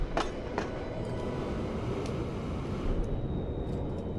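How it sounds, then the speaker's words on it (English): A train rolls past in Transport Fever 2, a steady broad rumble of rail noise with a faint clicking of wheels, continuous and fairly close, with no voices over it. "There goes my next train."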